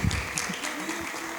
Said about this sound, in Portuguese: Agradecemos também o nosso amigo Douglas. Uma salva de palmas.